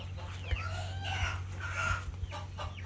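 Chickens clucking near a coop, a close run of short throaty clucks and chirps from several birds over a steady low hum, with no talking.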